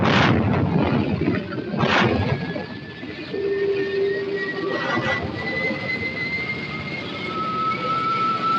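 A US Navy 8-inch rapid-fire naval gun firing, two heavy booming shots in quick succession followed by sustained mechanical droning and a steady tone.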